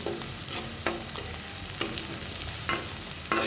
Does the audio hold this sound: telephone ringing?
no